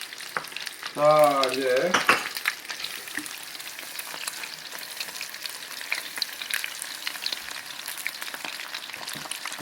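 Shrimp crackles and sizzles steadily as it deep-fries in hot oil, a dense bubbling hiss, with a brief spoken phrase near the start.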